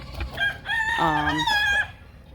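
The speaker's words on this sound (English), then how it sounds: "I have a ton of silky roosters too, but like, this blue guy's a rooster." A blue silkie rooster crows once, a clear drawn-out call rising and falling over about a second and a half, close by and alone.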